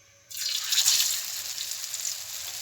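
Aloo besan tikki patties dropped into hot oil in a nonstick pan, bursting into a loud, steady hiss and crackle of frying that continues without pause.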